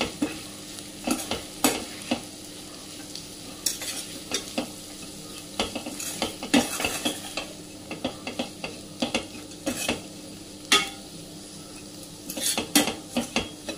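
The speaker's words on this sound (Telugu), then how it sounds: "టూ స్పూన్స్ కారం, 1/2 స్పూన్ సాల్ట్ వేసుకొని మంచిగా కలుపుకోవాలి." A spoon stirs beetroot fry with chilli powder and salt in a pan, giving irregular metallic scrapes and clinks over a soft, steady sizzle.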